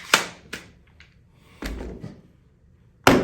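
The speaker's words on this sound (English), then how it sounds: "Glock goes in, locks in." Glock 21 .45 ACP pistol being seated and locked into a micro brace conversion kit, giving a few sharp close plastic-and-metal clacks and thunks with quiet gaps between them.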